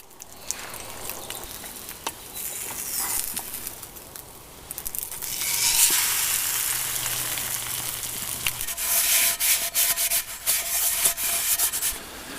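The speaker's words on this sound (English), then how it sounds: "Guess who's gonna clean the dishes?" Dishes being scrubbed outdoors at a bush campsite kitchen, a steady close rubbing and scouring with gritty, sizzling texture that swells and eases in bursts, no talk over it.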